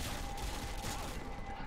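Gunfire in the video game Call of Duty Modern Warfare 2 sounds as a dense, continuous rattle of rapid shots, fairly quiet and unbroken throughout.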